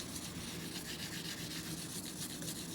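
Steady close rubbing and sanding hiss as a Demko AD20S knife blade is polished by hand, a continuous abrasive scrub with slight rhythmic pulses, no voices.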